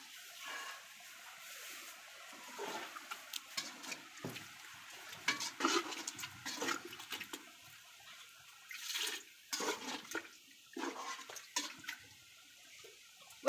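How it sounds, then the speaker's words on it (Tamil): Water is poured into a cooking pot of meat for a salted-meat rice dish, an uneven splashing and gurgling stream in bursts that stays fairly faint and close, with no talking. "கறி வேகிற அளவுக்கு தண்ணி சேர்த்துக்கலாங்க"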